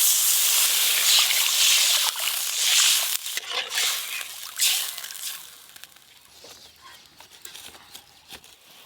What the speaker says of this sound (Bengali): মশলা তো কষানো হয়ে গেল, এবার জল দিয়ে দেবো।